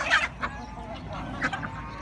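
An angry duck quacks in short bursts among other farmyard birds, including a goose and a rooster, close by, with steady outdoor background noise.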